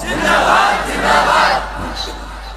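A large crowd at an Islamic waz sermon gathering roars a takbir chant in unison, two loud swelling shouts of many voices, then fading.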